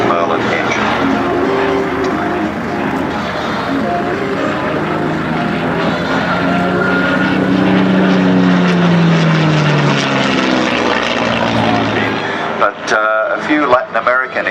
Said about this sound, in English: let you hear the sound of that fantastic Merlin engine